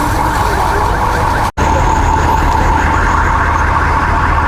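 A siren from the Umingan, Pangasinan fire truck arriving at a police station fire in Tayug, a steady wailing tone under loud continuous rumble, with a brief dropout partway through.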